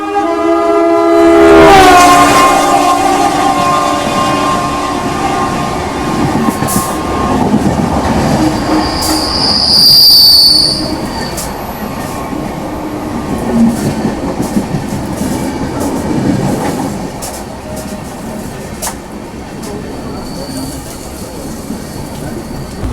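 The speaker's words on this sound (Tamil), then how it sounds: "அந்த ட்ரெயின் பாஸ் ஆகட்டும் பேசலாம்" Loud Yelagiri Express train passing close by on the Jolarpettai to Chennai Central line, a horn blaring at the start, then rumbling wheels, rhythmic clacking and metallic squeals as the cars roll past.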